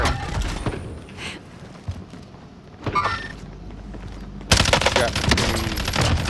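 Bursts of automatic gunfire and scattered shots in a Call of Duty: Modern Warfare squad match, with a heavy dense volley near the end, under intermittent player voices.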